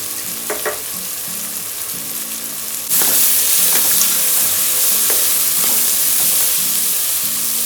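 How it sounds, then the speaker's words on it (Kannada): Tomato bath masala sizzles in a pan as salt is stirred through it, a steady frying hiss with scraping spoon strokes; the sizzle swells louder partway through and carries on without talk. "ಇವಾಗ ನೀಟಾಗಿ ಮಿಕ್ಸ್ ಮಾಡ್ಕೊಂಡಿದೀವಿ"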